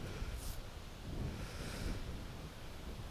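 Steady wind rushes on a frosty morning at a bush campsite in Kanagra-Boyd National Park, a continuous low roar with gusty swells and no voices.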